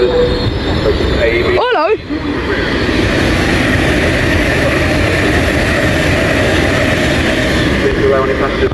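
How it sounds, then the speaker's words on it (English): An Avanti West Coast express service pulls into Milton Keynes Central station, a loud, steady rumble of wheels and rolling stock with a brief rising-falling squeal near the start; someone speaks briefly over it. "behind me pulling in is the 1429 Avanti West Coast service to London Euston"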